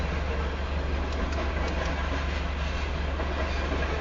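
A southbound Union Pacific grain train rolling past on the Spine Line, a close, steady rumble of cars and wheels with faint rhythmic clacking, continuous and loud throughout.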